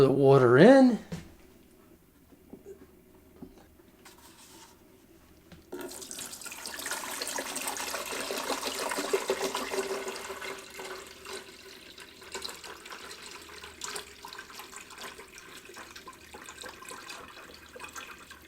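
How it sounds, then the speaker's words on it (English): Water pours steadily into the tank of a countertop reverse osmosis water filter for several seconds, a continuous splashing rush that continues more quietly after a short pause. "Pour the water in."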